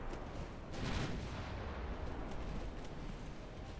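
Naval secondary guns fire in Ultimate Admiral Dreadnoughts battle, a dense wash of rumbling blasts and crackling reports rolling over one another continuously at moderate loudness.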